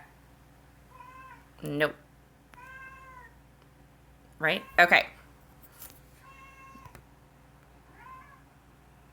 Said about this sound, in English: Oh, my cat is gonna drive me insane. Go away, kitty cat.